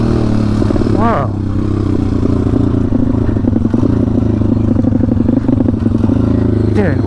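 A WPB 190 motorcycle engine fitted with a new NIBBI carburetor runs steadily at close range, holding a rough, throbbing idle with a couple of brief revs and some mechanical clatter throughout.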